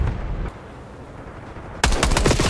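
Call of Duty: Black Ops 6 gunfire: a brief loud burst at the start, a quiet gap, then a sharp, close rapid-fire rattle of automatic shots.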